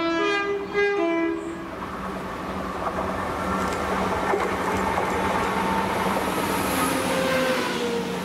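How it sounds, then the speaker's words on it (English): A ScotRail class 170 diesel unit, 170452, passes Dalmeny, opening with a short two-tone horn blast before a steady rolling rumble and rail noise continue throughout. "the 1342 ScotRail service to Edinburgh from Arbroath with"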